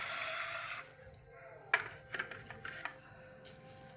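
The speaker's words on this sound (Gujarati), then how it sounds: "ચાર પાંચ પાણીએ ધોઈ લેવાની છે તો આપણે ધોઈ લેવી" Soaked vati dal washed in water in a kitchen: a steady rush of running water at first, then a few quick splashes and sloshes of the lentils being rinsed, faint and close.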